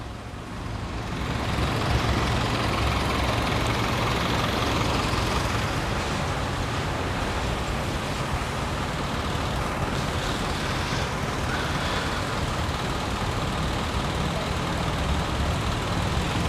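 A flatbed tow truck's engine running as a car is loaded, a steady broadband rumble holding at an even level throughout, close by, with no clear talk.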